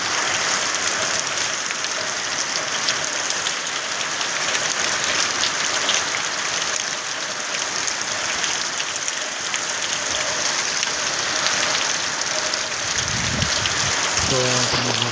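Steady rain with wind pours down outdoors in a Gujarati village, a dense unbroken hiss that holds loud from start to finish, with a brief voice near the end.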